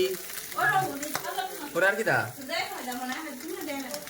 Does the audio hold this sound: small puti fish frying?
yes